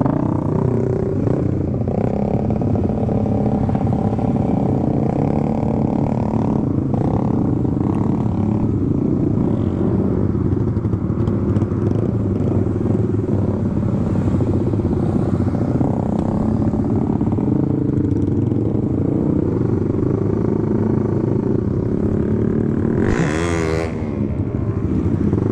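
Big motorcycle engine runs steadily throughout a ride, a loud sustained drone with throttle changes, alongside an MX King and a GSX, with a brief sharper whine rising near the end.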